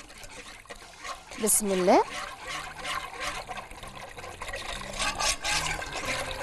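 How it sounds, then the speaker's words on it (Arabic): Milk is poured into a pan of butter and flour while making a béchamel for cauliflower gratin, a soft liquid pour and trickle heard under a woman's speech. "انا حطيت الزبده والدقيق وهنزل كده باللبن"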